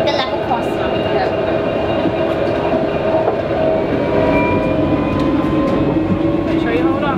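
A Nottingham tram rolls past a level crossing with a steady, loud rumble and faint rail clatter throughout, while people talk nearby.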